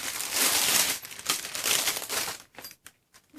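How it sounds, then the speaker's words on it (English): Rustling and crinkling of plastic packaging from a Temu delivery being handled up close, loud bursts of crumpling that thin into a few scattered crackles near the end. "excuse the rustling"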